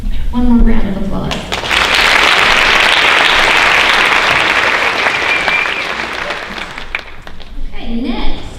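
An audience at a high school honors night bursts into loud, sustained applause that swells and holds for several seconds, then fades as a voice begins speaking.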